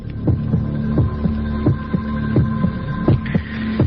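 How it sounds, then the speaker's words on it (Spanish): A recorded human heartbeat thumps in a steady rhythm of about a dozen low beats over a continuous hum, loud and close, with no voices. "Latidos de corazón, según nos informan estos reporteros"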